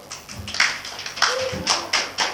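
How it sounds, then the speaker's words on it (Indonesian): A class in a teaching session gives a short round of clapping in uneven bursts, fairly close and loud, with a brief voice in the middle. "Saya beri tepuk tangan dulu"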